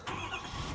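A Ford F-250 Super Duty Platinum pickup's engine turns over and catches, a brief, fairly quiet burst of starter and engine noise with no talking.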